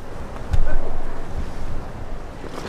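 Gusty wind roars steadily outdoors across the microphone, a broad rushing noise that swells slightly after the first half second and holds, with no voices.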